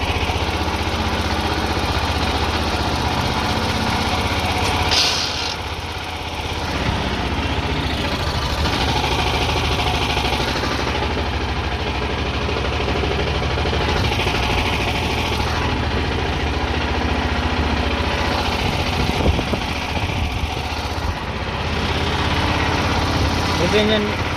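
A dune buggy engine running on a first test ride, a steady mid-pitched chugging drone with slight knocking that rises and dips in places, while someone talks over it.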